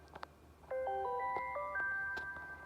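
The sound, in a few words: Samsung Galaxy C4 phone ringtone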